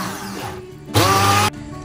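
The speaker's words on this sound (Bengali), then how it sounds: "লাউয়ের পাতাগুলো আমি সম্পূর্ণ ব্লেন্ড করে নিয়েছি" A kitchen blender whirs at high speed in a short burst while blending steamed bottle gourd leaves, loud and close, starting abruptly and cutting off after about half a second.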